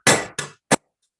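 Three sharp metallic hammer strikes on a pendulum clock part during repair: two longer ringing hits close together, then a short final tap, loud and close with no talk.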